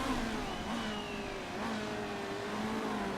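A race car engine in the Motorsport Manager video game, revving and accelerating with rising and falling whines that sound as though several cars are passing, steady and moderately loud.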